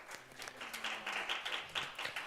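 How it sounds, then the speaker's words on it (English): Brief applause in a student senate meeting after a bill is approved unanimously, a light scattering of claps from a small group of members, soft and somewhat distant. "Now we can clap."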